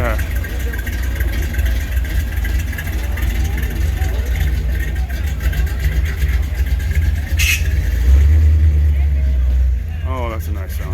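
A classic flatbed truck engine rumbles deep and steady throughout, building slightly louder near the end, with someone speaking over it.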